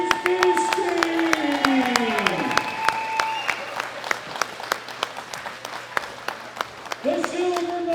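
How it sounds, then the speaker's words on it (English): Steady audience applause fills a powerlifting medal ceremony at the World Classic Powerlifting Championships, dense clapping running throughout while an announcer's amplified voice speaks over it at the start and end. "a big round of applause now for Krzysztof Wierzbicki."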